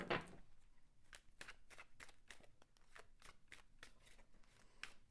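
Tarot cards are shuffled by hand in a steady series of crisp riffling flicks and soft slaps, close and fairly quiet, continuing throughout with no voices.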